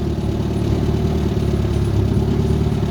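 An old Leyland vehicle's engine runs steadily while driving, a loud, continuous low rumble without breaks.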